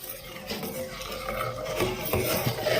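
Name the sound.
stirring rice starch mixture in a pot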